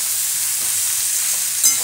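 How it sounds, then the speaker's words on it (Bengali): Spice paste with ginger paste and cumin powder frying and sizzling in a pan, a steady close hiss with faint stirring and no talking. "এবারে মশলাটাকে ভালো করে কষতে হবে।"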